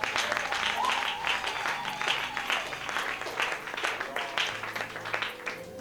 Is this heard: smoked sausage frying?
no